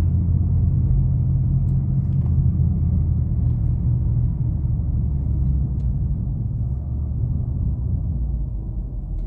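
Deep, steady exhaust rumble from a BMW M340i F30 M Performance edition in sport plus mode, a continuous low drone heard from inside the car with no voices.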